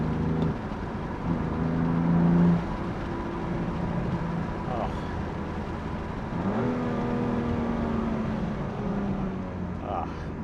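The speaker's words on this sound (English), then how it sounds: "I really love the S55 motor, even compared to the S58, like sound-wise." BMW M2 Competition with the S55 engine driving, a steady in-cabin engine drone with shifting harmonic tones as revs rise and fall, continuous throughout with a brief louder surge early on.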